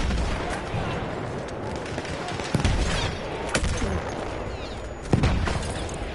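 Mortar fire in the World War I shooter Battlefield 1: a few sharp, heavy impacts land at irregular intervals over a steady din of distant gunfire.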